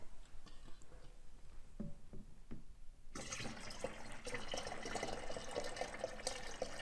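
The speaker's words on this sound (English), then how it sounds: "Now it's time to add the wort to the container and let the magic start." Wort being poured into a Mr. Beer fermenting container already holding a gallon of water. A few faint clicks and taps come first, then a sudden steady rush of pouring liquid that continues to the end.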